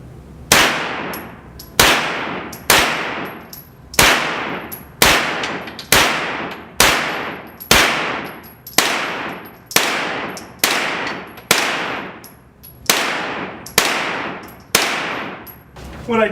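Rapid gunfire from a Ruger PCC pistol caliber carbine, about twenty loud close sharp shots in a quick regular rhythm, each ringing briefly on a steel target.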